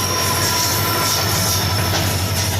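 A long train passing close by at a level crossing, a loud, dense, steady roar of wagons and wheels filling the whole stretch with no pauses.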